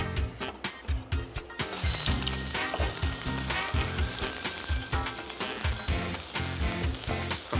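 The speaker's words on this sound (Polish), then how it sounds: "oliwa rozgrzana, wrzucaj cebulę" Chopped onion frying in hot olive oil: a few sharp knocks, then a loud, steady, crackling sizzle fills the pan without pause.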